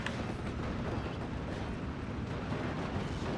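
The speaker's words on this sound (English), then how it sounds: "You can see that took the critical ammo explosion there in order to blow up." In the Steel Division: Normandy 44 video game, an M5 half-track's ammunition explodes as a loud, sustained rumbling blast. Dense crackling fills the whole stretch, with no talking.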